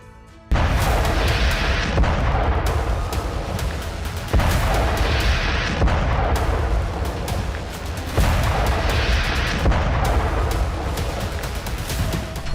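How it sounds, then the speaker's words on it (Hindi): Loud, continuous war-footage rumble with heavy low-end booms from the Russia-Ukraine conflict, swelling in three sustained waves after a sudden onset, like repeated artillery blasts, with no talking. "एक धमाका हुआ और रूस यूक्रेन युद्ध में बड़ा टर्न आ गया।"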